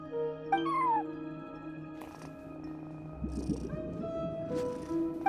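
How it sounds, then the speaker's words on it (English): A cat minding a front desk in Genshin Impact lets out a couple of short, clear meows over soft game music, the calls distinct and close. "No one except for a cat watching over the front desk."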